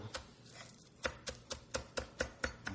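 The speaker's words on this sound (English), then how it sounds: "I love little green onions chopped up like this." A knife chops green onions on a board: about eight crisp, evenly spaced taps, close and fairly quiet, with no voices.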